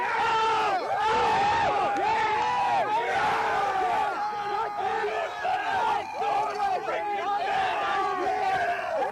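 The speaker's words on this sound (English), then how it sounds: "There's a big student crowd here" A student crowd at a high school football playoff tailgate party shouts, whoops and cheers close by in rowdy bursts, with voices talking amid the noise.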